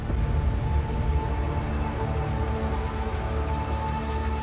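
Steady rain falls outdoors in cold wilderness, a dense, even hiss of drops with no voices.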